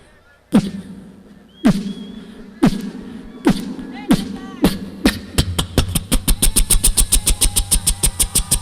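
A voice imitates an engine that will not start on stage at a comedy show, with repeated sputtering cranks and thumps that speed up into a rapid loud chugging run.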